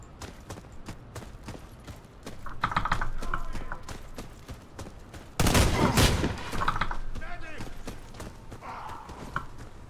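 Rifle fire in the shooter game Warface comes in two loud bursts of rapid shots over constant clicking of keys and a mouse, with a voice talking in between.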